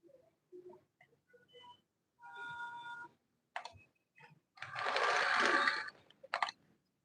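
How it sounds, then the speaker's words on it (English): A sewing machine stitches a shiny-faced satin sleeve in two short whirring runs, one brief and one longer and louder, amid scattered small clicks and handling taps, close up. "So I'm going to stitch it"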